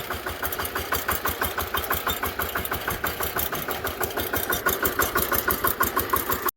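A large tractor's engine runs close by with a rhythmic, chugging diesel knock. The beat pulses quickly and evenly throughout and grows slightly louder toward the end, with no talk.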